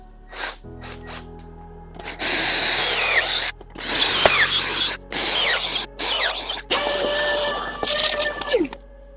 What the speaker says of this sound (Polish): łatwiej mi będzie wtedy przykręcić tę podstawę tutaj do tego pionu